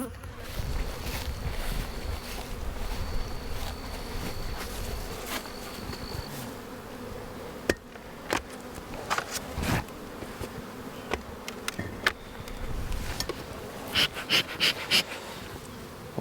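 Honey bees swarm and buzz around hives knocked about by a storm, a dense steady drone close by with individual bees zipping past, a few faint human sounds and bumps in the background.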